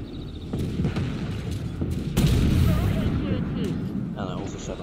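A tank cannon fires HEAT shells in the Armored Warfare video game, giving sharp booming blasts over a rumbling battlefield, with one heavier shot near the middle amid constant low noise and scattered clatter.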